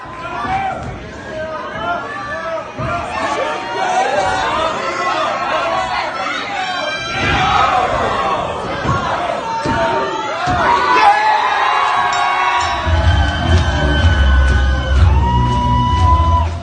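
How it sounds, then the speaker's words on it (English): A packed crowd at a Colorado Springs independent wrestling show roars with cheers, yells and whoops. Loud overlapping chatter and shouting carry throughout, and a deep thud lands near the end. "You see how the crowd was super hot in there, right?"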